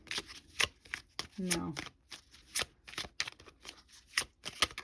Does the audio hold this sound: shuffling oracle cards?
yes